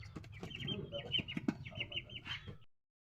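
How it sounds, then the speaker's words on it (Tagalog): A Shamo chicken clucks and murmurs in a quick run of short, close calls with some scuffling and background chatter, ending abruptly after under three seconds. "ito na yung manok na binili ko"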